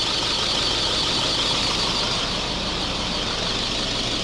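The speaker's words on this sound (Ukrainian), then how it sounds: "А двигун шипить, ні?" An Audi A8 engine idles steadily with a broad, constant hiss running over a low rumble, unchanging throughout.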